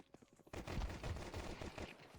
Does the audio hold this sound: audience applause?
no